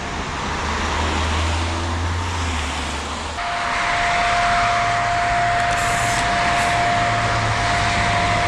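Road traffic rushes past nearby, cars whooshing by in overlapping waves of tyre and engine noise, with a shift midway as another vehicle passes and a steady tone hums above the roar.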